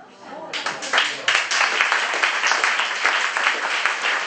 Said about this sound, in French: Deux applaudissements pour Laurie et pour Martin